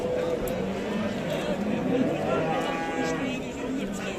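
Cattle low and moo at a livestock market in Şarkışla, Sivas, Turkey, amid a busy outdoor crowd, with people chattering and calling over the animals in a dense, continuous din.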